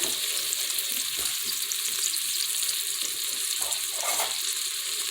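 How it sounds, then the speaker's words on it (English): Chicken and sausage sautéing in an Instant Pot, a steady bright sizzle close up with occasional scrapes of a spoon stirring, no talking. "we're going to put these in there to saute"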